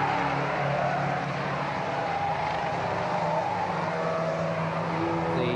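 Production cars from 1975, including a yellow Mini and a Mustang, race around Epswich Raceway with a steady, continuous engine roar that drones on throughout, loud and close, with no pauses.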